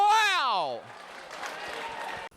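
A football crowd cheers and claps in a broad, steady wash of noise, at a moderate distance. It follows a voice whose pitch slides sharply downward.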